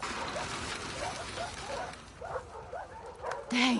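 A dog whimpers and gives a few short yips in bursts, fairly close, with light background noise and faint voices around.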